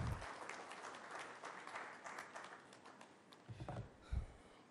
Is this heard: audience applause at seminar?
yes